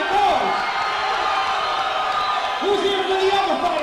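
A loud crowd roars and whoops at a live fight event, a dense sustained wall of cheering with a few raised voices and shouts rising above it throughout.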